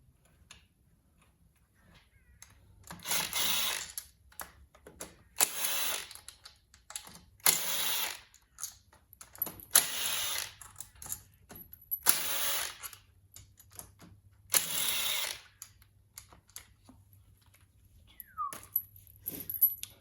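Screws being loosened on a Kawasaki KX250F to free the shifter, heard as a series of about six short ratchet-like clicking bursts separated by pauses, close and moderately loud with no talking.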